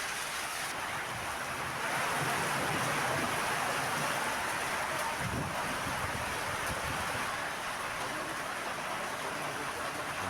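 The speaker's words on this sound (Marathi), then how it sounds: "अमरावती जिल्ह्यात वादळी वाऱ्यासह गारांचा पाऊस झालेला आहे" Stormy wind drives rain and hail across Amravati district in an unseasonal storm, a steady loud broadband roar and hiss that fills the whole stretch with no letup and no voices.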